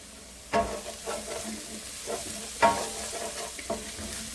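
Onion and semolina for upma fry in a pan, stirred in several distinct scraping bursts over a soft continuous sizzle, close and moderately loud with no talking.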